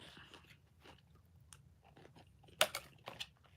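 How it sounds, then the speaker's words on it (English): Someone eats a Mediterranean salad, with soft close-up chewing and a few sharp crunchy bites, quiet and alone without talk. "Sorry for chewing for most of the live"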